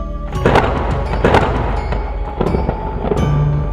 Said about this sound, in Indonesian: Petir yang tiba-tiba hadir meledak, menggelegar, benar-benar mengagetkan mereka.